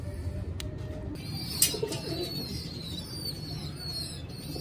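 Pigeons in a loft of about eighty birds coo softly and continuously over a steady low rumble, with a brief flutter or sharp sound near the middle.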